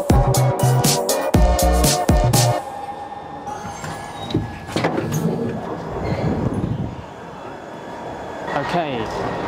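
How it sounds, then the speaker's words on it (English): A green Glasgow Subway train rumbles and clatters at Kelvin Bridge. Loud, heavy thumps open the clip, then a steadier rolling noise follows as a person talks excitedly over it. "Oh my god, it's the green train I saw earlier."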